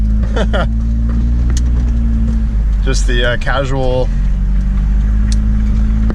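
A daily-driver car fitted with big tires cruises to the gym, its steady engine drone constant throughout while a person talks briefly over it.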